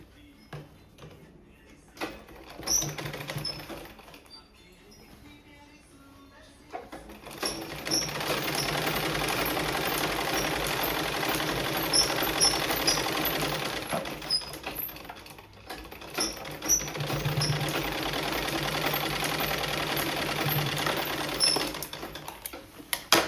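A sewing machine stitches the back and front waist pieces of a prince-cut, four-tuck blouse together, running in two long, steady bursts with a short pause and quieter handling between them.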